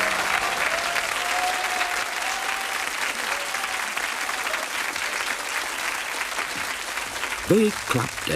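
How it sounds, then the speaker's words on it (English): Sustained audience applause fills the whole stretch, a dense even wash of many hands clapping from a crowd, with a faint voice briefly rising near the end. "They clapped everything."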